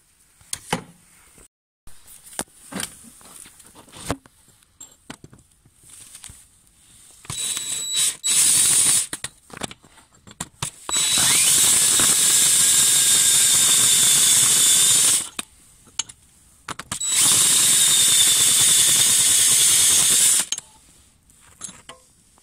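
A power drill with a 16mm bit whines loudly in two long bursts, grinding through a broken glow plug in a TDI engine, with short starts, clicks and handling noises between them.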